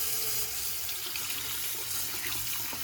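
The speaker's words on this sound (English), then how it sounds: "it should be able to withstand running water like this." Tap water runs steadily over a rechargeable tactical flashlight in a continuous hissing splash, close and moderately loud, with no voices.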